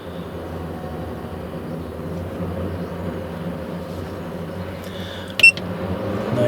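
Campervan roof skylight fan running at its high speed setting, a steady close whooshing hum of moving air with a brief sharp click near the end.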